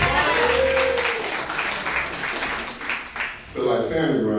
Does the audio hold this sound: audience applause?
yes